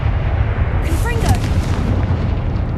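A Confringo fire spell exploding in the Hogwarts Legacy video game: a loud, booming burst with a sharp, bright crackle, heard with the game's background sound.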